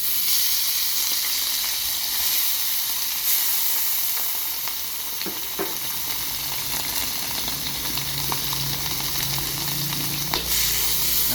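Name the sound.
beef frying in a pan for daging goreng air asam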